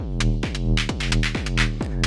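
SSF Autodyne module with a sidechain input patched in and its sidechain filter off, giving a pulsing, pumping bass-heavy tone with a rhythmic swell and duck on each beat, steady and unaccompanied.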